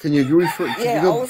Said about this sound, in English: I hear the rooster there? That's amazing, the rooster thing.